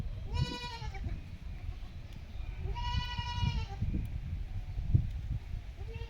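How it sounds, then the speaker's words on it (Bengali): A young goat kid bleats twice, about two and a half seconds apart, in short wavering calls that sound fairly faint over a soft outdoor background hum. "তার দুধ খেয়েই বড় হচ্ছে এই ছাগলের বাচ্চা।"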